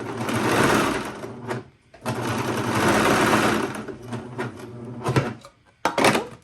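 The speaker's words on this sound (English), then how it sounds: "And when it doesn't really matter, I choose serger." A serger sews a seam on smocked pants in two long bursts, then several shorter ones, a loud rapid mechanical chatter that stops and starts with brief quiet gaps between runs.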